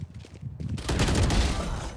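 Rapid automatic gunfire from a Spectre weapon in a video game, a fast burst that starts abruptly and continues loudly to the end after a brief quieter lead-in.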